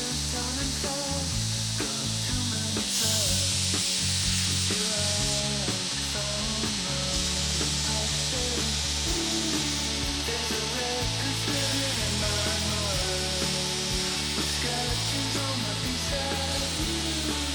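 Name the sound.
belt grinder sanding saw marks off wooden cup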